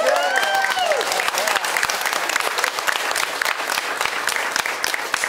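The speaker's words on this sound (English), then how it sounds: "We can applaud for that." Crowd applause at a farmers market opening day, a dense, even wash of clapping hands that runs the whole time, with a brief voice or whistle-like tones rising over it at the start.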